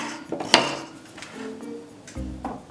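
A kitchen knife chops carrots into rough thirds or quarters for bone broth, with a few sharp, close cuts against the board and one especially crisp strike.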